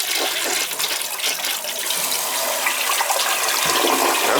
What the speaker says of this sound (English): We'll see how it flushes, okay?